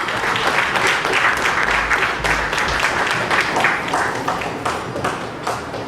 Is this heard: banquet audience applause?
yes